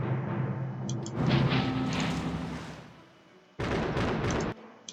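A battleship being destroyed in the Axis & Allies strategy video game, heavy rumbling explosions in two loud bursts separated by a quieter stretch of booming and crackling battle noise, with no talk.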